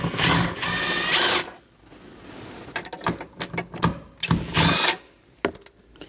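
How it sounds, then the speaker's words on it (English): Ratchet with a 10 mm socket on a wobble extension working nuts while removing a rear parking brake cable on a 2000-2006 Mini Cooper, with a few sustained bursts of ratcheting between clusters of short clicks and clanks, close up. "You're going to use the same setup, 10 millimeter with an extension. I'm using a wobble extension,"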